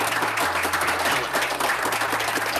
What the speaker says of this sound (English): A round of applause for our calendar committee.